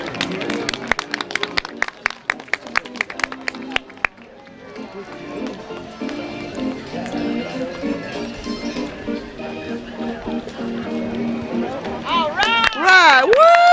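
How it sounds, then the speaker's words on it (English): Applause and cheering from a crowd at a horse show, greeting a horse on its victory lap. A run of separate sharp claps gives way to a sustained crowd roar with voices, and a loud whistling cheer rises near the end. "Give him a round of applause tonight."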